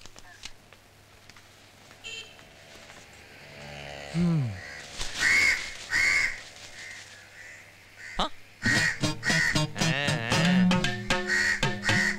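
A crow caws repeatedly, loud and close, alongside other sharp animal-like calls and some talking during a dramatic scene from a Tamil action film.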